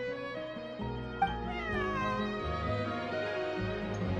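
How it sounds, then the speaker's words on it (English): A cat in the video game Genshin Impact lets out a drawn-out, wavering meow over soft in-game background music. "I believe this cat belongs to me."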